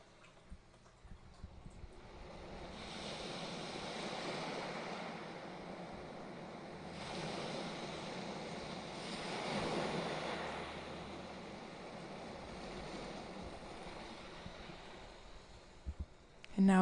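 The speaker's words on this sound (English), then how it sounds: "watching the waves crash in" Ocean waves crashing on a shore: soft, distant surf rolling in long swells that rise and fade over several seconds, faint and hissing, with light wind noise and a quiet voice speaking.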